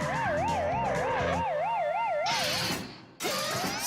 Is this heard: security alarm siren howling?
yes